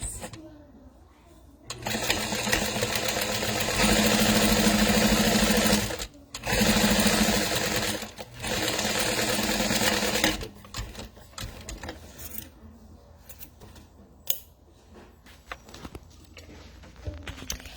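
A domestic sewing machine stitches waterproof canvas for a wallet, using a 3.5 stitch length. It runs in three loud, steady bursts separated by brief pauses, followed by quieter handling clicks and small knocks.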